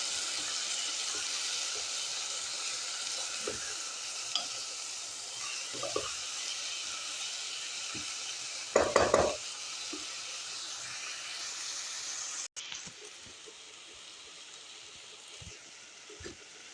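Chicken pieces fry in a pan, cooked Levantine style alongside a molokhia dish, giving a steady, hissing sizzle with a brief burst of scraping and clatter from stirring partway through.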